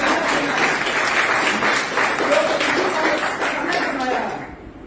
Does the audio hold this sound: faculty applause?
yes